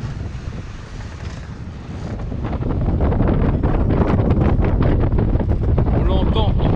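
Strong wind blows across a Mahé 36 sailboat under full sails at about 21 knots, a rough buffeting roar that swells and grows louder through the second half.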